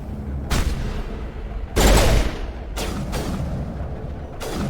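A grenade explosion and gunfire in Mass Effect, heard as several sharp, loud blasts spaced a second or so apart, with a heavier booming hit near the middle over a low rumbling background.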